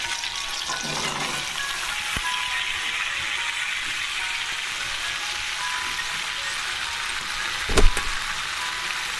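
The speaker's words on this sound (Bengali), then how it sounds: "এবার আমি এর মধ্যে আলুগুলো দিয়ে দিচ্ছি" Potatoes go into a hot pan for a vegetarian cabbage curry and fry with a steady, bright sizzle that holds throughout, broken by a couple of quick knocks and one clatter near the end.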